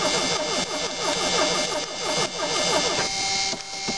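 A turbocharged Mustang engine cranks and fires on a cold start after sitting for about sixteen days, then runs at a loud, steady, rough idle close by.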